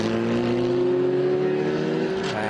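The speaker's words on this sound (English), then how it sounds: "And there's car number 50." A Van Diemen USF 2000 race car passes on the track at Circuit of the Americas during an SVRA vintage race, its loud engine droning steadily at high pitch and then fading slightly as it goes by.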